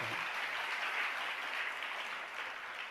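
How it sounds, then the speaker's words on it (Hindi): An audience claps steadily through a religious discourse by a Jain acharya, a dense, even round of applause heard alone, fairly close and sustained for the whole stretch. "आप लोगों ने ताली बजा दिया"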